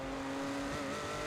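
Porsche GT3 race car in a racing video game at Bathurst, engine droning steadily at a near-constant pitch as it slows for pit entry, with a brief tire screech rising loudly at the very end.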